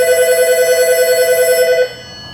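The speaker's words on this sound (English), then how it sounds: "The phone is ringing." A telephone ringing with a rapid warbling electronic trill, loud and close, cutting off near the end to leave quiet room tone.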